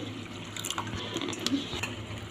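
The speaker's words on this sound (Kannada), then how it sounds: "ನೀರು ಹಾಕ್ಕೊಳತ್ತೀನಿ ರೀ" Water trickles and splashes steadily into a container while making banana flower gravy, a soft continuous pouring sound with faint clinks, heard up close without any talking.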